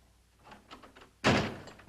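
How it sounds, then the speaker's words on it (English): A door is shut with a single solid thump and a brief rattle near the end, heard at close range after some quiet shuffling, in a scene from a 1958–1959 television series. "Shut the door."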